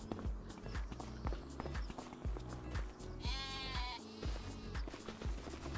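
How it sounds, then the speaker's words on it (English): Sheep bleat in a Farming Simulator 25 enclosure, one clear wavering bleat rising over a steady rhythmic patter of hoofed footsteps that repeat close by throughout. "Is this a sheep enclosure?"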